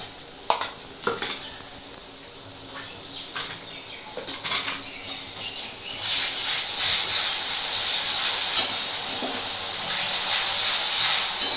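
Ginger-garlic paste hitting hot oil in a pan with mutton liver sets off a loud hiss and sizzle that builds midway and holds steady, after a few scattered clinks and stirring sounds.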